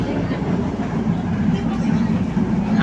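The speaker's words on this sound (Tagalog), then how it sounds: "Dito na po kami sa LRT ngayon." Steady low rumble of a light rail train in motion in Manila, a constant drone with rattling undertones and faint crowd murmur throughout.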